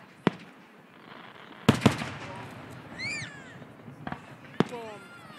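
Fireworks go off in sharp, loud bangs, a few single cracks spaced apart, while a whistling rocket squeals and warbles high overhead between them.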